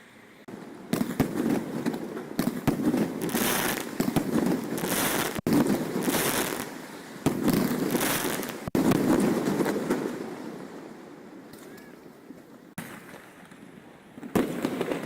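New Year fireworks over the city of Yakutsk crackle and boom in repeated bursts, some distant and some nearer, rumbling on continuously with short gaps between volleys.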